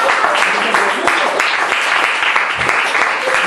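A church congregation applauds together in a burst of dense, uneven clapping, with a few voices mixed into the sound.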